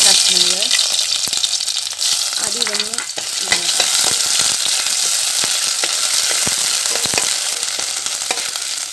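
Onion, carrot and green chili sizzle and fry in hot ghee, with ginger paste in the pan, a steady crackling hiss broken by stirring scrapes, up close.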